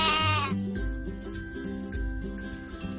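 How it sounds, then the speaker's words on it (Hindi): A sheep bleats once, a short wavering call up close, then gives way to a steady low music bed with a faint sustained tone. "The next animal is a sheep"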